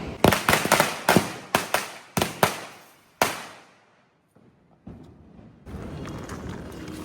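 Diwali firecrackers bursting in a rapid string of about ten loud sharp bangs, ending in a final blast that fades, followed by a lingering hiss and crackle.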